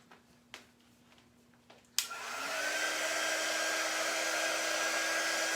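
A hair dryer clicks on after a few faint taps and blows steadily, a loud continuous whoosh with a whining motor tone, drying painted craft boards.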